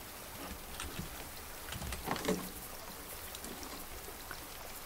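Crops being watered in the survival game Raft, a steady soft patter of falling water with scattered droplet ticks, even and continuous throughout.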